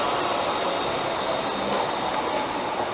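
A Heathrow Connect train passes through Southall station, a steady rumbling roll of wheels and carriages that stays close and loud for the whole stretch, with no talk over it.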